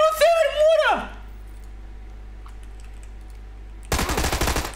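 Thompson submachine gun fire in PUBG, a rapid burst of shots near the start that fades, then a second loud stretch of dense gunfire near the end, with quiet game ambience between.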